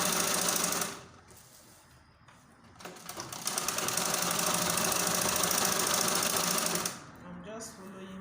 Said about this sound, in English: Remember the sewing now, I'm sewing in front.